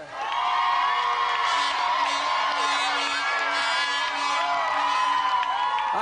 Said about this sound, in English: let's have another round of applause for our champion challenger, Gavin Hansford!